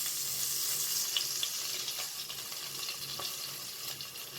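Crawfish browning in hot oil over medium heat as the base of a roux for bisque, giving a steady broadband sizzle throughout with a few faint clicks and scrapes, no voices.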